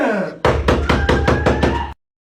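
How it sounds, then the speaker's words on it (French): A door being pounded on repeatedly, about seven loud, heavy knocks in a steady rhythm, close by, ending abruptly in silence. "Arrête de taper sur la porte."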